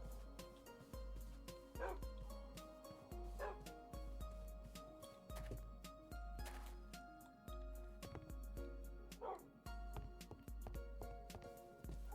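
Several dogs barking and yipping in the TerraFirmaCraft video game, repeated short barks in an irregular rhythm over a steady low game hum, mid-distance and fairly loud.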